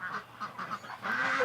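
Wild ducks with bright plumage, walking deep into bushes, give a run of short nasal honking calls in quick succession, close and moderately loud, with no talk over them.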